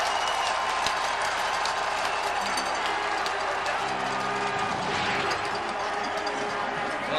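A dense, steady roar from a football stadium crowd at a CFL West Semi-Final, BC Lions at Winnipeg Blue Bombers in November 2002, filling the clip loud and continuous, with a faint voice under it.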